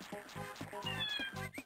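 A house cat meows several times in quick succession, close and fairly clear, with a few short calls and a longer rising cry near the end.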